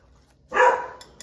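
A single dog bark from a neighbouring dog, one sharp mid-loud yap that trails off briefly, heard alone in an otherwise quiet kitchen.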